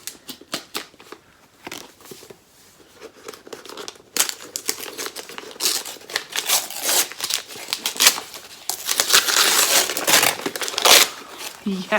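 A book package sealed with tough, stubborn tape is torn and unwrapped, with continuous crinkling, ripping and rustling of paper growing louder toward the end, while people chat over it.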